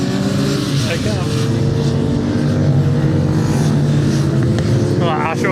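Classic racing motorcycles drone past on a MotoGP circuit, a sustained engine roar with rising pitch sweeps as the machines go by, while someone talks over it.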